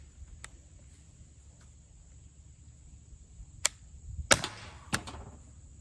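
An HDR50 less-lethal revolver fires lightweight D's rounds in a few sharp, dry pops, isolated shots spaced apart, then a closer cluster near the end, over a quiet outdoor background with a faint steady insect-like hiss.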